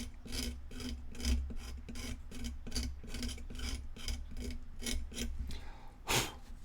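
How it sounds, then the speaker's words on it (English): Hand sanding with a piece of sandpaper: quick, regular back-and-forth rasping strokes, close and fairly loud, repeating steadily with one stronger scrape near the end. "I'm gonna have to get in here with a piece of sandpaper."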